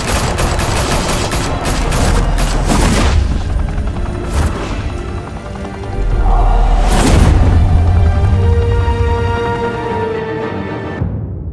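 Dense, loud video game gunfire in a Batman Telltale shootout: sustained fusillades with heavy booms and bursts layered over a constant roar, swelling in intensity partway through before cutting off abruptly.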